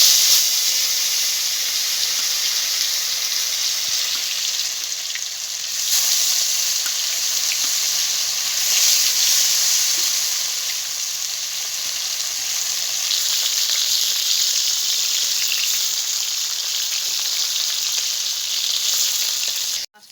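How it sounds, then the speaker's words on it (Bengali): Silver carp fish fries in hot mustard oil, giving a loud, continuous, hissing sizzle that holds steady for the whole stretch with no voices over it. "বন্ধুরা মাছটাকে ভেজে নেব"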